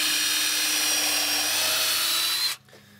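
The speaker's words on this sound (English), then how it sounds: "we're going to use our cordless impact to drive the big legs in" A cordless impact driver drives big lag bolts into pre-drilled 2x12 boards for a raised garden bed, a loud sustained whine close by that stops abruptly near the end.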